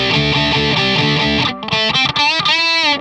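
An electric guitar through a distortion pedal on a germanium setting plays a chugging rhythmic riff, then sustained gritty chords with abrupt stops, loud and close with no talk.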